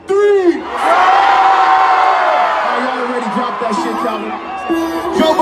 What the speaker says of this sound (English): I said I need y'all to scream as loud as you can tonight